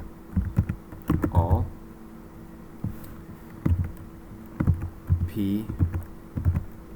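Code typed on a computer keyboard for a D3.js selector, a close series of quick key clicks in short bursts with pauses, while someone speaks briefly between them.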